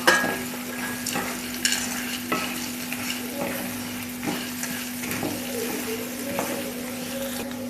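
Sandge, sun-dried lentil dumplings, fry in a pan for a sandge bhaji, with a soft continuous sizzle and scattered scrapes and clinks of a spoon stirring against the metal, close by and without speech.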